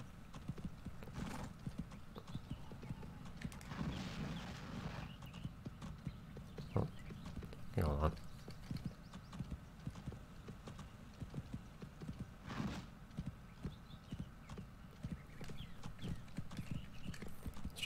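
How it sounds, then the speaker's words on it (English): Horse hooves clip-clop steadily in the Go Vacation video game as the horse is ridden along and off a cliff, a continuous rhythmic patter with a brief whinny-like burst partway through. "Now getting to ride the horse off the cliff is oddly entertaining."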